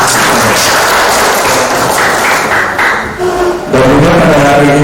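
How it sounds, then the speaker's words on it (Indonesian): Applause from an audience of mothers at an indoor handover-of-office ceremony and Halal Bihalal gathering, loud and sustained clapping that fades briefly before swelling again. "Aplaus dulu untuk ibu-ibu, ya."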